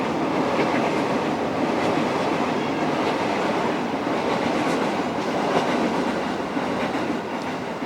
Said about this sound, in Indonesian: ada kereta lagi, mungkin sedikit ngeganggu suara keretanya